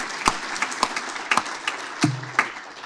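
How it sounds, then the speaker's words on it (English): An audience at a legislative forum gives applause in honor of a county supervisor. The light, scattered clapping comes from a modest crowd. "let's give a round of applause to Supervisor Hahn"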